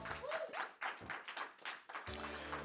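Speedrun event audience claps in bursts, uneven waves of clapping rising and falling, with brief pauses between them and a steadier patch toward the end, at moderate volume.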